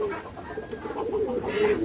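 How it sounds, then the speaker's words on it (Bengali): A Sapchila female high-flyer pigeon coos nearby in a short, throaty, warbling phrase, fairly loud and clear with no talking. "একটা সাপচিলা মাদি কবুতর আছে"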